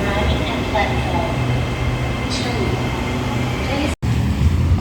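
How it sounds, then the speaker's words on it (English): Metro train pulling into a platform on the line toward Bang Sue Station, a steady loud rumble and rolling hiss with a low hum throughout, broken by one sharp dropout near the end, with station chatter beneath. "The train to Bang Sue Station is arriving at platform"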